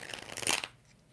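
A brief close rustling riffle as tarot cards are shuffled, rising to a crisp peak then cutting off into near silence after about two-thirds of a second.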